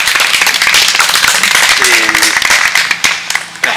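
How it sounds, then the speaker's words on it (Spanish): An audience at an open mic gathering applauds, with dense, loud clapping that runs steadily through the whole stretch and thins slightly near the end. "Un aplauso."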